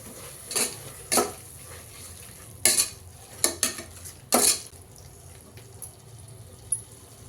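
A metal spoon stirs coriander powder, chili powder and salt into a pot for a tomato meal-maker pulao, making several sharp clanks and scrapes against the vessel in an irregular rhythm over a soft sizzle.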